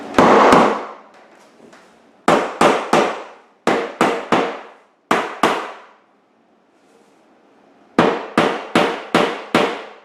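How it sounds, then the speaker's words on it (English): Hammer strikes fastening vinyl flooring planks onto a wall, sharp loud close blows in quick clusters of two to five with pauses between. "let's hammer this up."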